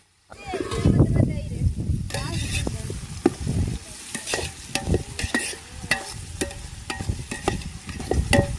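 Onion-rich Andhra biryani base sizzling in hot oil while a ladle stirs and scrapes the pan, a steady close fry with repeated sharp clinks and scraping strokes throughout.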